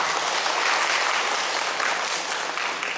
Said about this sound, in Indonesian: Tepuk tangan dulu saudara sekalian.